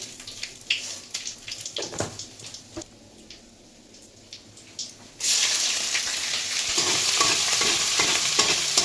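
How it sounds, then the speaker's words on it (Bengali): Dried red chillies and cumin seeds are tempered in mustard oil, starting with scattered crackles and clicks before a loud, steady sizzling hiss rises and continues to the end. "ফোড়নটা করে রাখছি, হয়ে গেলে হাঁড়ির মধ্যে অ্যাড করে দেবো।"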